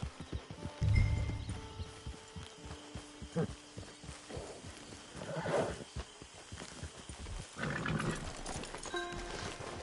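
Horse hooves clip-clop steadily along with rustling movement and occasional soft snorts, a Red Dead Redemption 2 Online game soundscape with faint tones in the background.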